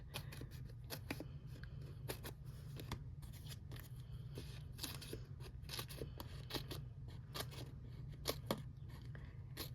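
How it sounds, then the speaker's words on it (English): Quiet, close scissors snip through dimensional adhesive foam sheets for card making, a steady run of small crisp cuts over a low background hum. "So let me kind of cut my dimensionals up a little bit."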